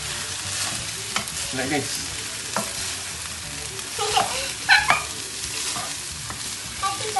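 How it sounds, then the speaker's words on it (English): Food frying in a pan being stirred, soft sizzle under intermittent scraping strokes of the utensil, close by, with brief talk from an adult and a child. "now I need you to stir"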